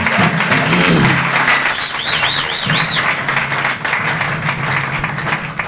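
A church congregation applauds during a worship service, a loud and sustained wash of clapping, with a high warbling electronic tone rising above it partway through.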